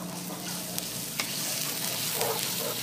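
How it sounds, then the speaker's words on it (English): A spoon stirs barbecue sauce for a pot roast in a pot, giving soft scraping and a gentle bubbling sizzle with a few light clicks against the pot, steady and close. "And we stir it."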